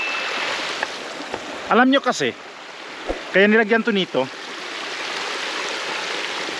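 Rainwater pours down from the mountain in a cascade during a heavy Holy Week downpour, a steady rushing wash of water heard throughout, with someone talking in two short bursts over it.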